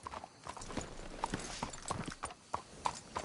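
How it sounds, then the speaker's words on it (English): Horse hooves clip-clop at a steady walking rhythm in Red Dead Redemption, distinct and fairly close, with faint ambient sound beneath and no talking. "Let's hitch the horses up ahead."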